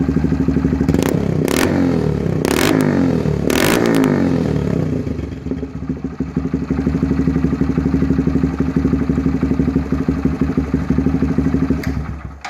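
A Honda Grom SF motorcycle fitted with a Zoom exhaust, in cold weather, gives several sharp throttle blips over a burbling idle, then settles into a steady, close, pulsing idle with one final short rev.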